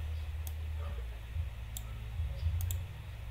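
Computer mouse clicks in a quiet room, a few sharp isolated clicks spaced irregularly over a low steady hum, close and distinct.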